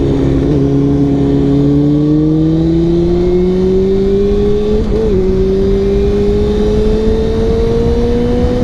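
A Kawasaki ZX2R motorcycle engine revs hard while being ridden, its high droning note climbing steadily with a brief dip midway, loud and close throughout.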